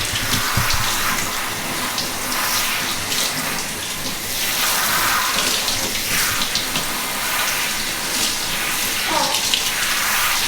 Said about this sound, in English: You rinse it with lukewarm water.